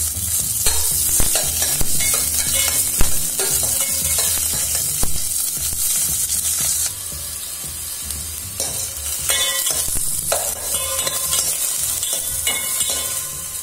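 Half an onion frying with fenugreek seeds in a pan makes a continuous close sizzle, with scraping stirs and clinks from a spatula recurring across the span; the hiss eases briefly midway before resuming, and nobody speaks.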